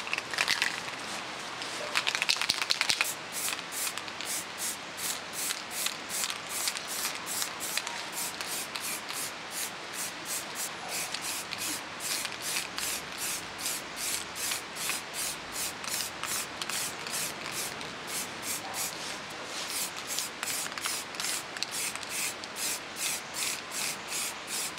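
An aerosol can sprays a top coat outdoors onto metal angle brackets in a long run of short, evenly spaced hissing bursts, close and steady with no voices.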